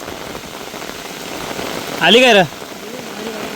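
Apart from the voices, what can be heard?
heavy rain falling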